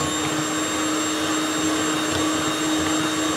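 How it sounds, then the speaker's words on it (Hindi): An electric hand mixer beats an egg into cake rusk batter, a steady high-pitched motor whine with constant churning, close and loud, no voices. "अब एक अंडा डाल के इसको इधर बीट कर लें।"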